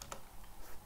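Brief keystrokes on a computer keyboard while entering a C++ compile command, a few light taps clustered near the start and faint clicks afterward, quiet and alone.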